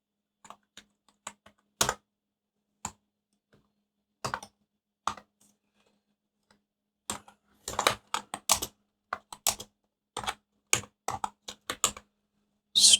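Someone types on a computer keyboard in scattered bursts of crisp, close key clicks separated by quiet pauses, with a dense flurry of taps toward the end.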